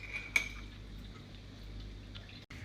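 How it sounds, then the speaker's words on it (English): A metal spoon clinks once against a mug and then stirs quietly in Nesquik hot chocolate, producing faint scraping and light ticking over a low background hum, close and soft. "And give it a mix."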